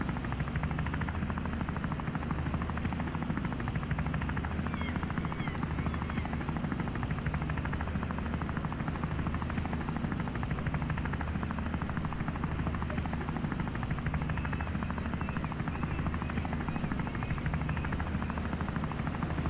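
A helicopter's steady rotor thrum and engine roar continue loudly and evenly from start to finish, with no break in the sound.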